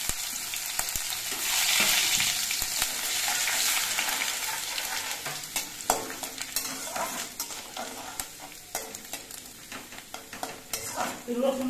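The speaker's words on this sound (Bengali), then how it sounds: "এবার এর মধ্যে আমি অল্প একটু থেতো করা রসুন দিচ্ছি।" Crushed garlic sizzles and fries in hot oil with spices for a chicken curry, a steady loud crackle with occasional stirring clinks from a utensil against the pan.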